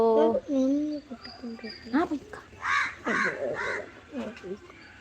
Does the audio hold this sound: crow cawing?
yes